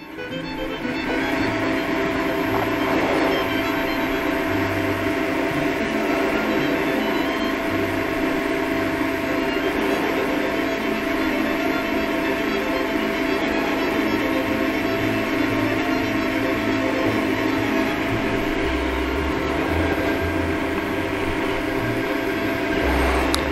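A wood lathe spins steadily at about 1000 RPM while finish is rubbed on with a rag, a continuous close motor drone with tonal whine and faint rubbing, with no talk.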